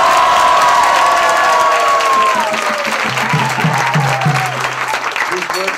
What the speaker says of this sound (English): We should have a great round of applause and Hari Bol for Bhajan and Anurag Prabhu.